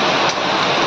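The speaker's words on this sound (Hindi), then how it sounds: "चंबा में भारी बारिश" Heavy rain pours steadily in Chamba, India, a dense, loud hiss across the whole moment with no pauses or voices.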